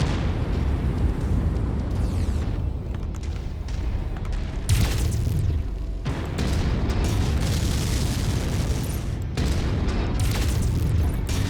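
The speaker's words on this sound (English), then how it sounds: "I'm going to let them bombard it with the missiles" Missile bombardment in the MechWarrior 5 video game brings a continuous barrage of loud, deep booming explosions. Heavy rumbling blasts follow one another with brief dips between volleys, and there is no speech.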